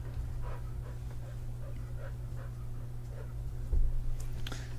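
An agitated dog pants in quick rhythmic breaths and whimpers, close by over a steady low hum, with a louder burst near the end.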